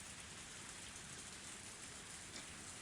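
Steady rain falling in a woodland setting in the Higurashi visual novel game, a soft even hiss of drops that stays constant and faint with no other sounds.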